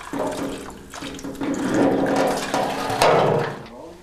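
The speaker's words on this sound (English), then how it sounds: "you want to pour the water out." Rinse water sloshes and pours out of a dirty, crud-coated metal fuel tank being restored, a close, gurgling stream that surges and splashes in uneven bursts with hollow metallic resonance.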